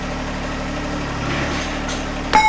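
A tractor engine idles close by, a steady low rumble holding an even pitch, with a brief clunk right at the end.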